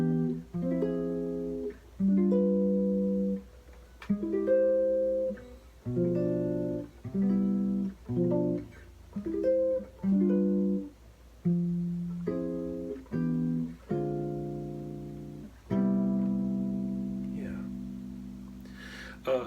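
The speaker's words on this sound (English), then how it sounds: "So that's the sound of the harmonic major scale." A sequence of sustained harmonized chords built on the harmonic major scale, played one after another in a slow, even rhythm with brief gaps, ending on a longer held chord; clear and close with no talking.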